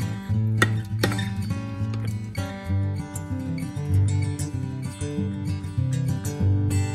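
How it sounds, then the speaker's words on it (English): A spoon scrapes and clinks against a bowl while mayonnaise, cream cheese and Old Bay are mixed for smoked kingfish dip, irregular metallic taps and knocks, close and clear. "We're gonna mix it up really good so that it's an even consistency when we put it in with the smoked fish."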